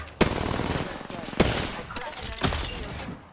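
Gunfire in the video game Apex Legends: sharp gunshot cracks at irregular intervals over a busy game soundscape, with a voice speaking underneath.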